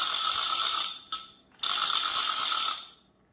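A handheld grogger noise maker, a spinning ratchet toy made for parties, whirs in loud rapid clicking bursts, one long spin, a short flick, then another long spin before stopping, close and alone.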